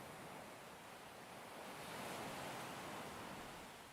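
Broad, steady wash of ocean waves and surf, soft and distant, swelling gently in the middle then easing, with no voices.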